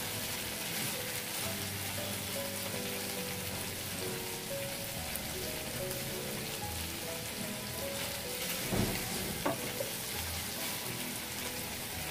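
Potatoes and cauliflower fry in a pan as a vegetable dish cooks down, giving a steady, dense sizzle that holds at an even level throughout with no talking.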